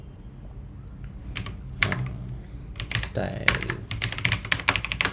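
Someone types Tailwind classes on a computer keyboard. The key clicks are fast and close, coming in uneven bursts that grow busier toward the end, and a person speaks briefly.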